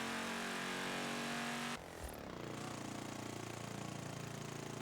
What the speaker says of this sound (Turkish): motorun sesi değişti